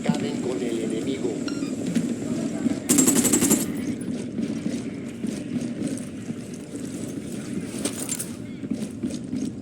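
Gunfire in the Ghost Recon video game sounds as scattered shots and a short automatic burst over a steady low rumble, with voices talking at times.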